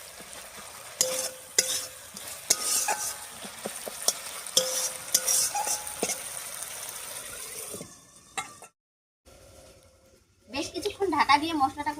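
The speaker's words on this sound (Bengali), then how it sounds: "তাই মশলাটা খুব ভালো করে কষিয়ে নিতে হবে" Spice paste for a potato and cauliflower vegetarian curry is stirred and fried in a pan. It sizzles steadily with scraping strokes, a voice talks over it for the first part, and then comes a pause before a louder burst of frying.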